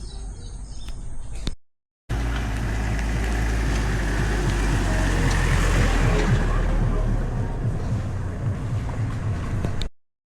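A vehicle drives along a village road on a morning trip through hilly countryside, a steady close rumble and road noise lasting most of the clip between short breaks, with faint birds in the background.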